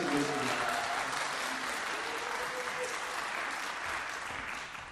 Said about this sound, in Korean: 다시 한번 힘내라고 뜨거운 박수 부탁드리겠습니다